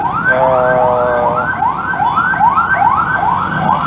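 An ambulance siren wails loud and close as the vehicle passes along a street, a repeating rising-and-falling tone cycling steadily about every half second over traffic rumble.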